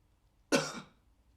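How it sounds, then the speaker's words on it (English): A single short cough, close and sharp, fading quickly into a quiet room. "Just cough for me there?"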